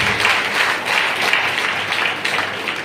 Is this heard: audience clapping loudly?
yes